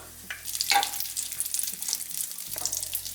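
Chopped cashew nuts fry in a pan for a banana vada snack, a close, soft sizzle broken by scraping stirs, with no talking.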